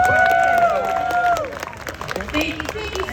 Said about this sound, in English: First of all, give a round of applause to Liz Barber.